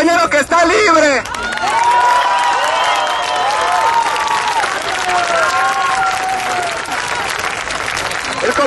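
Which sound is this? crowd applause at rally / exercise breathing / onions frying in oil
crowd applause at rally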